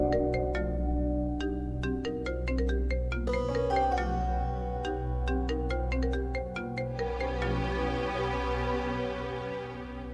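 A phone ringtone plays a tinkling melodic tune over a steady low musical backing, continuous and fairly loud.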